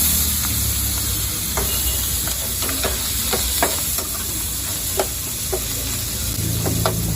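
Onions sizzle in hot oil in a pan while a crab fry is being cooked, a steady bright hiss broken by frequent sharp spatula scrapes and taps, close up with no talking.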